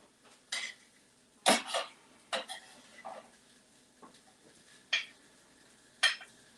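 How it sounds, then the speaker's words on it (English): Sauteed vegetables are scraped onto a plate with a utensil: a faint, close series of sparse clinks and scrapes, several sharp taps spaced out over a quiet background. "I'm gonna put these veggies on the plate."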